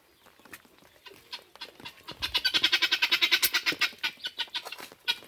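A chicken sheltering in an empty house after rain gives a few scattered clucks, then a fast rhythmic run of loud, close cackles that slows toward the end.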